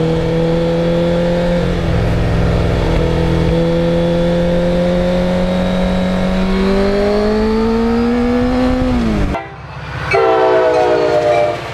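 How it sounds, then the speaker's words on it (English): A restored 1991 Yamaha FZR 1000 motorcycle engine winds up in a long, steadily rising, loud high-pitched howl, then briefly cuts off before revving again, close and alone. "from where you sit on a motorcycle, the sound is like an Indy car"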